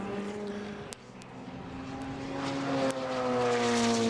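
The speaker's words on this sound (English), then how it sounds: "Sound of this" Ferrari 488 Challenge race car at a Valencia circuit race, engine note droning steadily at moderate distance with gear-change blips and a rising whine as it builds speed.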